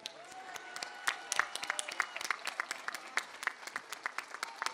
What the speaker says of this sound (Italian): E un applauso a tutti voi, eh?